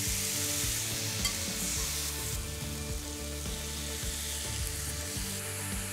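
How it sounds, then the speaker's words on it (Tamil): Chicken pieces sizzle steadily on an oiled grill pan over a medium flame, a close, continuous frying hiss with no talk. "சிக்கனை கிரில் பண்ணலாம்."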